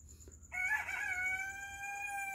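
A rooster crowing at dawn near a cemetery wall: one drawn-out crow, fairly close and clear, rising then holding before trailing off, against a quiet night-time background.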